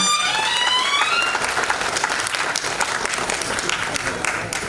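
Loud, sustained applause from a crowd honouring Alkatai at a felicitation ceremony, dense clapping that runs steadily throughout, with a faint voice beneath it at the start.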